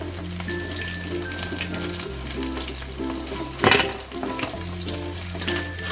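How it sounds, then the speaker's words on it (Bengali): Amudi fish fry crisply in hot oil with a loud, continuous crackling sizzle and a brief burst of louder spattering midway, while a steady hum runs underneath. "আওয়াজটা শুনে তোমরা বুঝতেই পারছো যে কতটা ক্রিস্পি হয়েছে"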